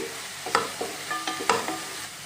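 Cumin seeds and broken dried red chillies frying in hot oil, a soft sizzle punctuated by several crackling pops and spoon clinks, close and moderately loud with no talking.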